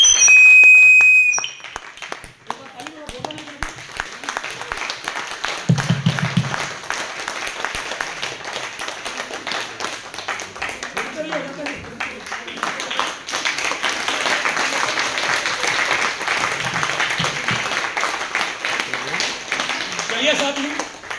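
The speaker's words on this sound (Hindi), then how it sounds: "ताली वाली बजा के बता दीजिए सर" An audience at a business seminar breaks into steady applause, a long dense wash of clapping after a brief electronic tone, sustained and fairly loud with some murmuring voices underneath.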